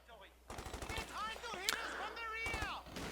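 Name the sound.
machine gun fire in Company of Heroes 2 video game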